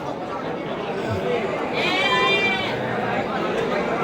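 Crossbred Texel and Merino sheep bleat at a busy livestock market in Bumiayu, a couple of wavering calls rising above constant crowd chatter and people talking nearby.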